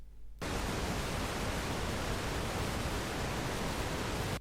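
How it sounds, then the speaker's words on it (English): A steady, broadband hiss of pink noise starts abruptly after a brief silence and holds at a constant level, deeper and softer than white noise. "For this, we use pink noise"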